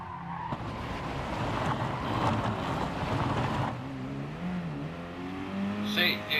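A Peugeot 208 race car in Gran Turismo Sport laps the Willow Springs circuit, its engine droning steadily with rising and falling revs through corners while someone talks over it.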